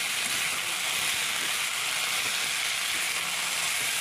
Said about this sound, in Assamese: মছলা দিয়াৰ পাছত লৰাই দিয়া গ'লে